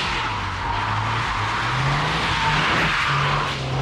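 Toyota GR86 with a 2.3-litre petrol engine drifting in Forza Horizon 5, engine note rising and falling through gear changes while tires squeal and skid steadily across the whole stretch, loud and close with no talking.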